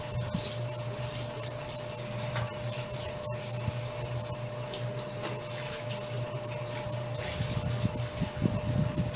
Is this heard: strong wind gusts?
no